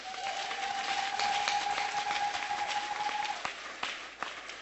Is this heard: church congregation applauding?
yes